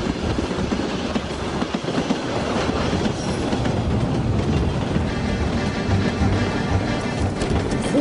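A train rolls along the rails with a loud, continuous rumble and rhythmic clatter of wheels, close by and steady throughout.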